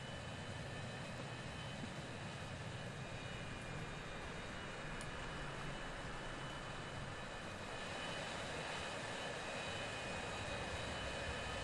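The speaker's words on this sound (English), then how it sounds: "Our first plane landing at Maggle" An airplane comes in to land at an airport in the transport management game Transport Fever, a steady droning engine roar holding at an even level throughout.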